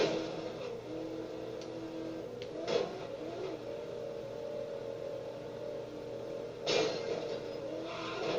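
Engine noise from a car in the LEGO Dimensions video game: a continuous motor drone with two sharp revving surges, one early and one near the end, and no talking.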